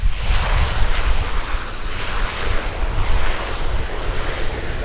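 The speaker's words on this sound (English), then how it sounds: "a C-27, kind of a Navy C-130 there with twin engines" A C-27 twin-engine aircraft flies over at the 2017 Wings Over Wayne airshow, its engines a loud, continuous, throaty roar with a rumbling low end that holds steady throughout.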